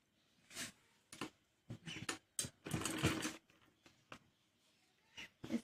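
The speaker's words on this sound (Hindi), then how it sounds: "ये हम अंदर की तरफ तीनों को एक साथ सिलेंगे और अंदर की तरफ फोल्ड कर देंगे" Short bursts of a sewing machine stitching buckram and a fabric strip together for a salwar cuff, several brief runs separated by pauses, moderately close and fairly quiet.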